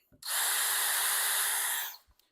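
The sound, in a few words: power drill drilling pilot holes with a 1/16 inch bit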